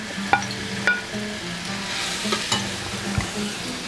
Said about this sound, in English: So then we'll just add our potatoes on here